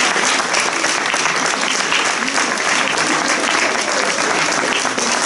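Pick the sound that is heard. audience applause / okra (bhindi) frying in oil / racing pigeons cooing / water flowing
audience applause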